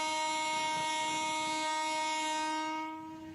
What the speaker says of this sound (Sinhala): අද අලුයම 5:10ට නගරාන්තර දුම්රිය බෙලියත්තේ සිට මරදාන දක්වා ධාවනය වූ